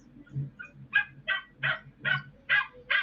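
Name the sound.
nervous dog crying and barking in parked car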